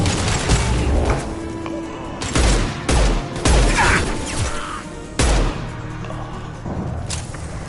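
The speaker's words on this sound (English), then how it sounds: "Firing concussive shots." Concussive shots and rapid gunfire from the Mass Effect 2 video game, a dense barrage of loud, overlapping blasts and booms with several sharp bursts standing out across the combat.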